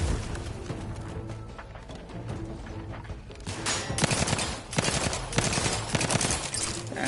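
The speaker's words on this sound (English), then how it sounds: "That's another grenade." Grenade blasts and gunfire in the sci-fi shooter Outer Worlds 2 on very hard difficulty, a dense barrage of loud bursts and booms that grows heavier partway through, with no talking.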